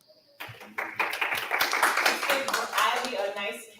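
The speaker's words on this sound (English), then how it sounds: "a nice round of applause" An audience breaks into applause after a talk on eliminating debt, starting with a few scattered claps and quickly building into a lively round of clapping, with a voice speaking over it.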